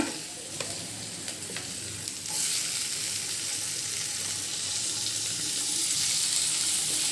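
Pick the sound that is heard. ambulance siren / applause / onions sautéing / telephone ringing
onions sautéing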